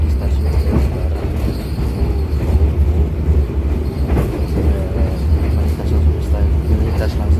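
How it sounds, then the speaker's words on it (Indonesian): Argo Muria express train passing straight through Jatibarang station in Indonesia, a loud continuous rumble of wheels and cars rolling by at close range with steady clatter throughout. "saat ini perjalanan kereta api Argo Muria telah melintas langsung di stasiun Jatibarang"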